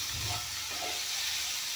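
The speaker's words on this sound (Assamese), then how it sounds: "এইখিনি অলপমান জুইটো কমাই দি ভাজি ল'ম।" Tomato and capsicum frying in a pan over low heat give a continuous, close sizzling hiss, with no voices.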